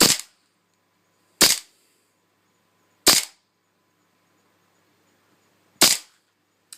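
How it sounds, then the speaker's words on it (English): An airsoft gas blowback pistol firing four sharp, loud single shots at irregular intervals, each a crisp snapping crack with a short tail, alone in a quiet setting. "Let's take a shot. The sound doesn't come through too well on the iPhone camera here, but trust me, this is noisy."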